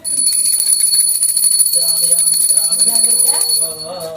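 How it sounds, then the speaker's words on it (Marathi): A small brass hand bell rung during a puja for a haldi ceremony, a continuous bright rapid ringing that carries on for several seconds, with some background voices mixed in toward the end. "घंटवा घंटा"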